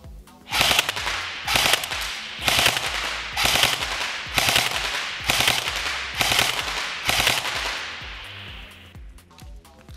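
A Cybergun Colt M4A1 airsoft rifle firing full auto, about eight rapid bursts in a steady rhythm, close and sharp, with a short rattling tail after the last burst.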